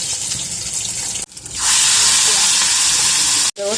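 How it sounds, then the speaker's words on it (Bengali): Oil hitting a hot pan for tempering flattened green-bean paste bursts into a loud, steady sizzle after a brief pause, cutting off sharply near the end. "এবার আমি এটাকে একটু তেলে ফোড়ন দেবো আমি এখানে তেল দিয়ে দিলাম"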